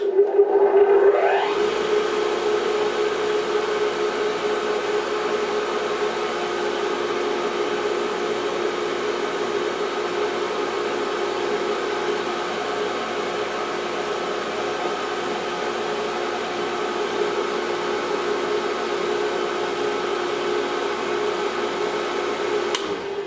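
A newly swapped-in motor on a Grizzly 5963 6x12 surface grinder starts up and runs steadily, giving a continuous even hum and whir with a faint tonal whine that holds unchanged throughout.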